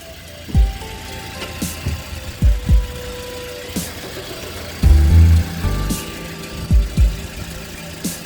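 A Hyundai i20 engine, due for a timing chain replacement, idles nearby with a low, steady rumble, broken by several heavier throbbing bursts as it revs briefly.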